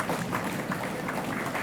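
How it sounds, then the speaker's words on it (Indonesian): Applause for the jury at a high-school quick-answer quiz contest, a dense wash of many hands clapping at once, steady and fairly loud throughout the short burst. "tepuk tangan untuk Dewan Juri"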